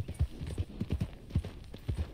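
Horse hooves clip-clop in a steady, brisk rhythm in Red Dead Redemption 2, close and clear, with no talking.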